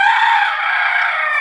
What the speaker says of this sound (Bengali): আর আমার মোরগটা শুধু ডাকে।